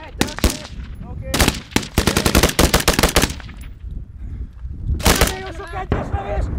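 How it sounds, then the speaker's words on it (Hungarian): Rifle fire during a NATO multinational military exercise in Hungary, sharp single shots and rapid short bursts crackling in clusters, loud and close, with gaps between volleys and some voices in the background. "Nagyon sok egyes lövés! Két puska rövid sor!"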